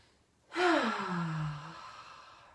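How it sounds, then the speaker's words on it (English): A group in a movement and mindfulness class draws a big deep breath together, one sudden loud breathy swell that fades out slowly over about a second. "Big deep breath in."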